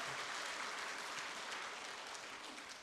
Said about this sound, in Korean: 격려 박수 한번 해드리겠습니다.